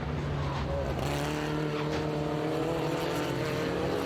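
S2000 race cars fitted with Ford Pinto engines race around the Mid-Ohio course. Their engines drone loud and steady, with a rising, sustained whine and no speech.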